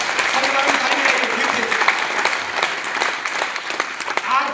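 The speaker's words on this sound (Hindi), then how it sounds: "ताली बजाइए सर के लिए" Audience members at a seminar in Bhilwara clap steadily in sustained applause, a dense patter of hands lasting throughout, with a voice speaking faintly over it.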